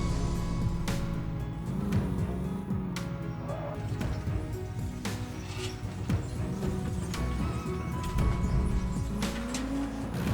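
A Bolero Camper pickup driving in a farming video game, with a steady synthetic engine drone that rises and falls in pitch alongside other vehicle sounds and sharp clicking effects.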